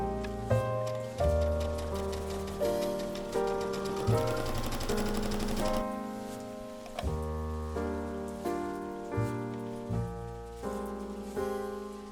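A sewing machine stitches fabric seams, running in a fast, steady mechanical patter with regular pulsing surges. A tonal hum underneath persists throughout.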